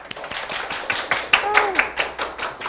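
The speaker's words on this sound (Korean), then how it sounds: "그럼 큰 박수로" An audience claps in a science lecture hall as a professor is welcomed, with a steady run of close, sharp hand claps at an irregular pace and faint murmuring underneath.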